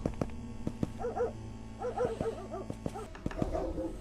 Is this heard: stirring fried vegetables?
no